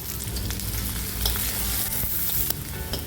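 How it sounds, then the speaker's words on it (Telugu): Garlic, onions and dried red chillies fry in hot ghee, a dense, steady sizzle with light crackles and occasional stirring scrapes, close and continuous without talk. "వెల్లుల్లి తరుగు, ఉల్లిపాయలు, ఎండుమిర్చి వేసుకొని ఫ్రై చేసుకోవాలి."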